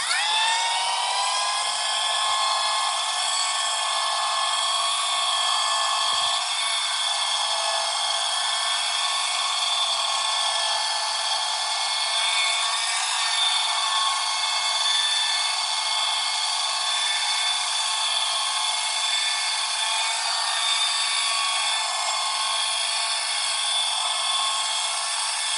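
Machine polisher working over the lacquered paint of a VW Beetle, a steady high whining drone that holds unbroken at close range with no talk.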